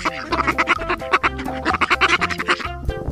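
Duck quacking in a rapid run of loud, nasal calls close by, repeated rhythmically for about three seconds.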